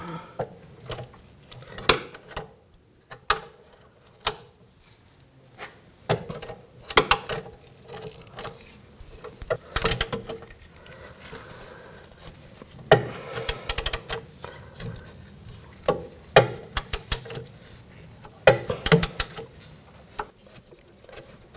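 A ratchet wrench with an 18mm socket works a control arm nut and bolt loose on a 2000-2006 BMW X5, with irregular close clicking bursts and metallic knocks against a quiet workshop background, no talking.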